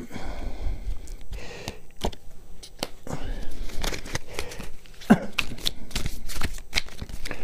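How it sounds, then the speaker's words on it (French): Tarot cards are handled and turned over on a table, making a run of close, crisp paper flicks and soft slides in an uneven rhythm, with no voices. "on va procéder au recouvrement des 5 cartes"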